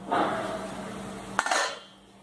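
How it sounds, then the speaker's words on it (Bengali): A metal lid lifted off a pot of jeera rice cooking over low gas on a stove: steady low hiss, then a sharp clink of metal as the lid comes away, followed by a softer, fading steam sound. "3 মিনিট হয়ে গেছে, এবার আমি চাপাটা খুলবো।"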